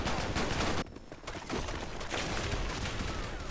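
Gunfire in the online shooter Blackshot crackles in dense, loud bursts. A short thinner lull breaks the shots partway through, then steady firing resumes.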